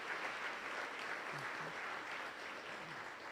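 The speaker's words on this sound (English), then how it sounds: "that deserves a round of applause" Steady applause from an audience at a county health event, a dense wash of clapping with a few low voices underneath, lasting the whole stretch.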